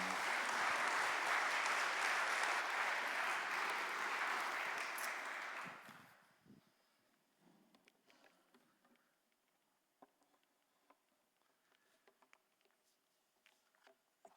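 An audience claps loudly for about six seconds, then the applause fades quickly into near silence broken by a few faint scattered taps and small noises.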